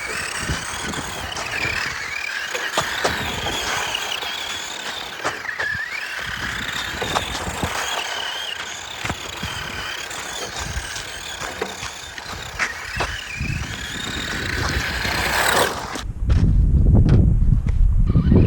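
A Tamiya BT-01 radio-controlled car runs across dirt, its electric motor whining up and down in pitch as it accelerates and turns, close by, ending in a louder rough rumble.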